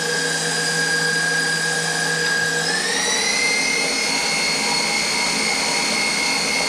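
An electric mixer creams butter and sugar for a pumpkin blonde brownie batter, giving a loud, steady whirring whine up close that steps up in pitch once partway through and runs without a break.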